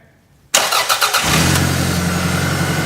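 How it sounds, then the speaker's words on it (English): A car engine cranks with a few rapid stuttering turns, then catches and settles into a steady, close idle hum. "you remove this after your engine starts"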